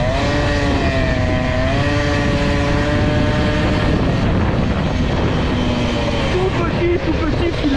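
A stock Peugeot 103 moped engine, still being run in, drones steadily on light throttle, a close, continuous buzzing note that wavers slightly in pitch as it rolls along.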